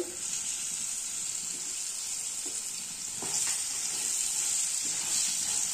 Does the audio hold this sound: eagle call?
no